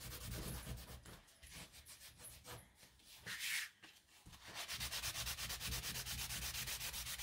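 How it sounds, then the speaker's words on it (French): Paper towel rubbed back and forth over paper to lift off clear all-purpose glue residue during card making, a steady, close, scratchy scrubbing that runs almost continuously, with a brief pause partway through. "En frottant avec un sopalin, ça n'abîme pas le papier."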